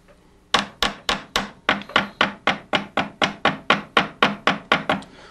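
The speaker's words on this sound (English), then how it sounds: "you'd want to planish it lightly" Light hammer planishing the tongue of a jewelry clasp during a repair, about sixteen crisp, evenly spaced taps ringing briefly, close and clear with no talk.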